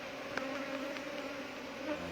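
Honey bees, drones among them, buzz steadily and close, a continuous droning hum with a few brief louder passes as individual bees fly near.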